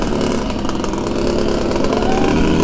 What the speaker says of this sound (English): Right now I got the bike in mode 3, which is set to 40 horsepower.